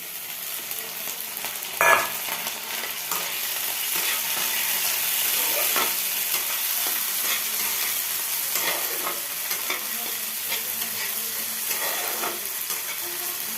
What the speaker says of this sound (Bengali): এই যে কাঁচা লঙ্কা আর তোমার টমেটো আমি কেটে রেখেছি, এটা আবার এখানে দিয়ে দিলাম।